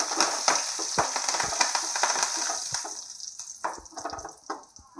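Curry leaves crackle and spit loudly in hot oil for a curry of jackfruit seeds, prawns and mango, a dense close sizzle with popping bursts that gradually thins out, no voices.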